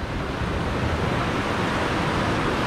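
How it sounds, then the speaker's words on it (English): Ocean waves crash and wash steadily onto the shore of a remote island, a loud, continuous broadband roar of surf with some wind noise and no pauses or talk. "Just got to really be careful of these waves here"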